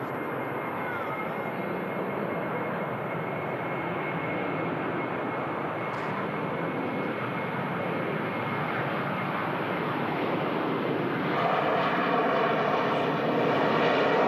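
A Jet2 airliner rolls down the runway for takeoff at Manchester Airport, a steady distant engine roar that swells slightly toward the end, with no talk.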